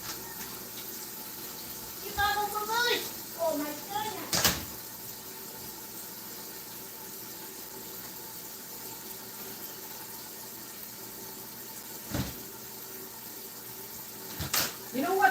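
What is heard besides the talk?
tap water filling a stock pot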